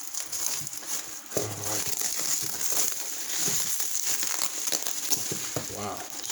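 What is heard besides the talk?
cutting open gold scrap package, crinkling packaging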